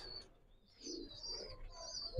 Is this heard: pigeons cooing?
yes